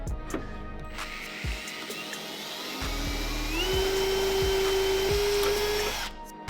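A power drill bores out spot welds on a Porsche 911 body panel, close and loud, its whine rising in pitch and holding steady for several seconds before stopping, with a few light knocks first.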